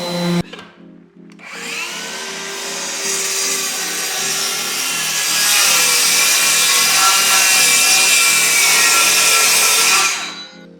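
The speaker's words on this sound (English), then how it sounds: "Now you sand the other one while I put this one on." A power sander runs steadily against a wooden tabletop, with a loud, continuous abrasive whir and grinding that starts after a brief bump and holds for nearly ten seconds before cutting off, with no talking.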